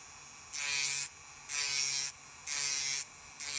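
A rotary tool fitted with a polish head grinds down a small screw for a Tamiya Mini 4WD carbon underguard, whining in three even bursts of about half a second each, separated by brief pauses, loud and close.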